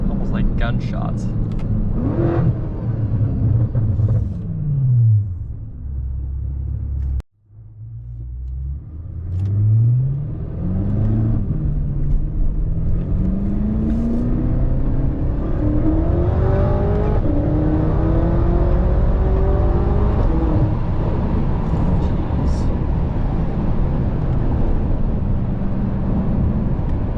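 A BMW F10 M5 with a new exhaust accelerating hard through the gears, rising engine wails with shifts and a brief cut, then sustained loud roar with pops, recorded close from inside the car.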